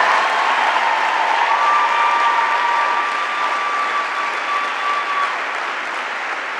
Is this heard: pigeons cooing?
no